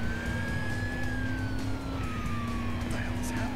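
Wailing emergency siren from an ambulance in the video game Driver San Francisco, a steady sweeping tone held continuously over engine rumble, with a voice talking over it.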